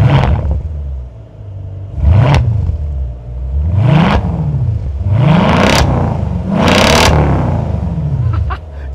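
A Mercedes SLK AMG, a small roadster with a big engine, revs up hard from a warm idle again and again, each blip rising and falling in pitch, loud and close.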